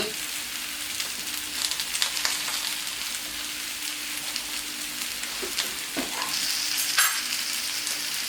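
Potatoes finishing cooking in a pan beside resting grilled beef onglet give a steady, low sizzle and frying crackle, fairly soft and continuous, with a few faint clicks of stirring throughout.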